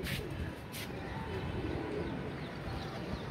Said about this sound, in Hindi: ये है जी हमारा कबूतर